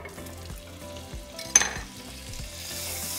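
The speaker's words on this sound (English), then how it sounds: "to our same pan, we're going to add 2 more tablespoons of butter" Butter melting and sizzling in a pan already used to cook lemon butter chicken, a steady frying hiss with a sharp scrape or clatter midway and the sizzle growing slightly louder toward the end.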